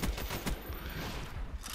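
An M14 rifle fires in Call of Duty Black Ops, with several sharp gunshots at the start and more scattered shots after, loud and close.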